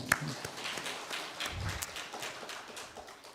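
Church congregation applauding during a lay theology gathering, a steady wash of many hands clapping at moderate volume, fairly close, with scattered sharper claps standing out.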